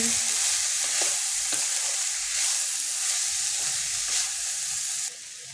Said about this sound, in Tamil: இதுக்கு தேவையான உப்பும் சேர்த்துடலாங்க நல்லா மிக்ஸ் பண்ணிடலாங்க